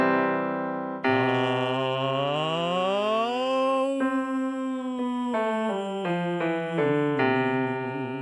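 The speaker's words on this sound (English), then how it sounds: "we're going to start on the bottom note with an ah vowel, and we're going to slide up to an oo vowel" A single voice sings a long ah rising smoothly up an octave into an oo, then steps back down a scale of sustained notes.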